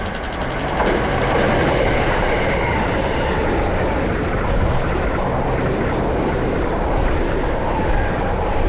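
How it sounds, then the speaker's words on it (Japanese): A Keio Line commuter train rumbles loudly and steadily close by, a broad roaring wash of wheels and rail noise that holds for several seconds as it approaches and passes. "いつもの京王線で電車が近づいてきてから遠ざかるまで"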